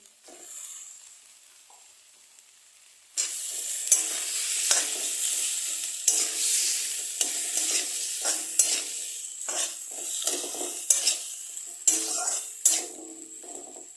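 Chicken pieces for a stew tipped into a hot pan bring a sudden burst of loud sizzling, followed by steady frying and repeated scraping, clattering stirs close by, after a few quiet seconds.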